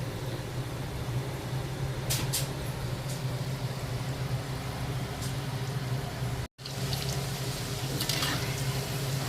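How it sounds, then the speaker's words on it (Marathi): Bottle gourd fingers frying in hot oil, an even, moderately loud sizzling hiss with a low hum beneath, broken by a single brief cut near the end. "तेल तापलेलं आहे, एक एक सोडू"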